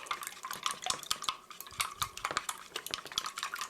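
A fork or whisk beats eggs back and forth in a bowl for egg rolls with green onion, giving a rapid run of close, clattering taps against the bowl with no talking.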